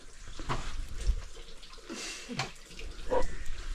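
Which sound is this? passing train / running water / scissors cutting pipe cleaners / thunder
running water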